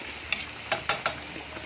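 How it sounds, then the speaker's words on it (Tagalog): Chopped tomatoes being sautéed in a pan for Filipino mung bean stew (ginisang munggo), a soft steady sizzle broken by a few sharp scraping stirs of a spatula, close and alone. "Kailangan mo maigisa na maigi yung kamatis"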